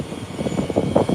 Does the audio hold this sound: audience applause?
no